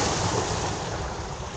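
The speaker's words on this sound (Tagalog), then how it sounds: "Isang alon." A broad wash of surf rolls in, steady and fairly loud, with wind noise blowing across the microphone.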